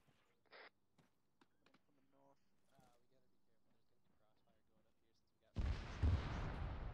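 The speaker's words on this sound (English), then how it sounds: "I hear gunfire." In a military video game, faint sparse clicks and a brief voice give way to a sudden loud burst of gunfire and booming noise near the end.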